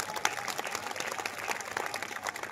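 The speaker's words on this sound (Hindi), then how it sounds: "गंजपारा की तालियों ने बताया कि कविता कैसे सुनी जाएगी" An audience at a poetry gathering during a Durga festival in Ganjpara claps steadily, a brief, even burst of many hands at moderate loudness.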